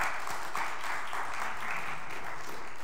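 A round of applause from an audience at a neighborhood association meeting held in a church, dense, even clapping that holds steady and fairly loud for the whole stretch.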